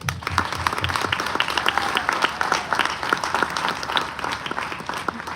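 A crowd aboard a cruise ship claps for veterans during a tribute, with sustained, thick applause from many people at an even level the whole way through.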